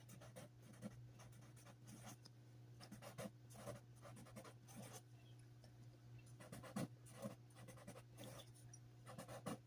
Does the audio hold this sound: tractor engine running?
no